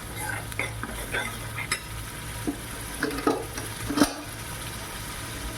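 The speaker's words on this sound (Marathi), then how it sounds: "पहा मसाला छान परतून तयार झालेला आहे।" Masala for a boiled potato bhaji is sautéed in a pan, with repeated spatula scrapes and metallic clinks over a gentle, continuous sizzle.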